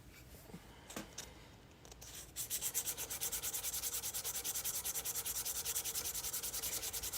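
Cedar wood is hand sanded with 400 grit sandpaper in a woodworking shop, starting with a few scattered scrapes and then settling into fast, regular back-and-forth rasping strokes, close and fairly loud.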